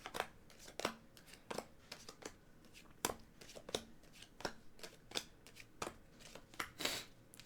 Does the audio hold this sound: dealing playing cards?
yes